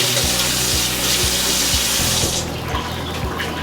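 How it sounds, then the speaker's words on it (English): A kitchen tap runs steadily while hands are washed beneath it between batches of Muenster cheese pancakes, a close, continuous splashing stream with faint knocks underneath. "I wash my hands"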